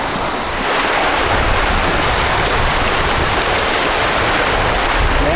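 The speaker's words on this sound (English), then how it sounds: "Massive water flow." Hemlock Creek pours in a massive flow along the Ice Age Trail, a loud, dense, unbroken rush of water close to the listener that holds steady for several seconds, with no voices.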